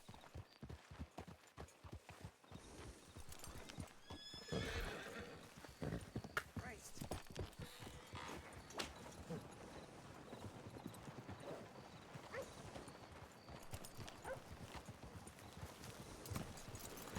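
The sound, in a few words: horse hooves clip-clopping in Red Dead Redemption video game (WildRP)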